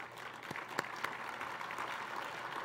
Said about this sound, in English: How about a round of applause for Paul Ralston as well?